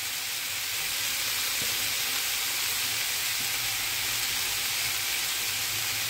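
Shrimp marinade sizzles steadily in a frying pan with tomatoes, a continuous loud hiss holding evenly throughout with no talk.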